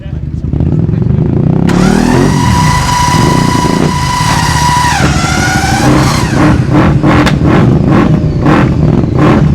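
A classic road motorcycle at a Scottish motorcycle show starts up and idles loudly, then is revved in a series of rising and falling bursts close by, with crowd voices and talk underneath.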